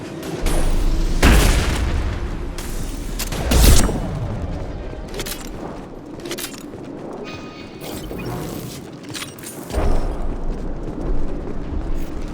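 Gunfire and explosions in the video game Mass Effect 2: heavy booming blasts, one big eruption near the start and another a little later, over scattered shots and mechanical clatter at moderate loudness.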